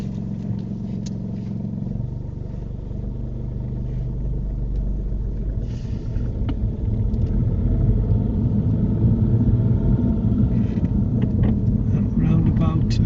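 A car pulls away on a UK mock driving test, its engine rumble building steadily as it gathers speed, with wind and road noise throughout and an instructor's voice heard over it.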